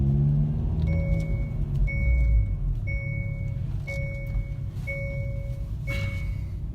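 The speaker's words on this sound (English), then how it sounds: "you get this warning sound when your seat belt is not fastened." A 2019 Hyundai Veloster N chimes its seat belt warning inside the car: six evenly spaced, clear two-tone dings about a second apart over a low engine and road rumble.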